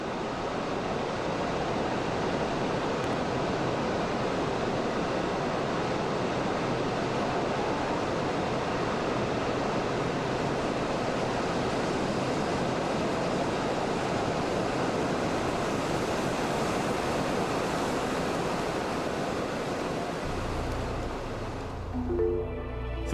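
Massive Iguazu Falls waterfall roaring in South America, a dense, steady wall of broadband rushing water that holds constant and loud throughout, with no voices.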